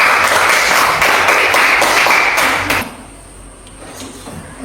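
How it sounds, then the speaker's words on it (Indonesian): Classroom applause from students, a dense burst of clapping that fills the room for almost three seconds before stopping abruptly, leaving quiet room tone with faint scattered sounds. "Sama-sama tepuk tangan."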